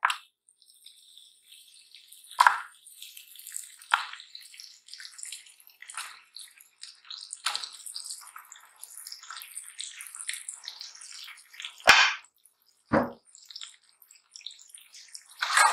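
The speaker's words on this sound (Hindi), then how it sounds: "अब हम इसके अंदर गोश्त को डाल देंगे।" Bone-in meat pieces dropped into a haleem pot give a few soft, wet splats and drips, with sharper splashes near the end, all faint and close, with no talking.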